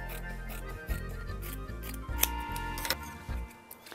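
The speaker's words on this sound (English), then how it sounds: "Clip the corners a little bit off." Scissors clip the corners off a sewn fabric piece for clothing, giving a few short, close snips and rustles against a low background hum, with no speech.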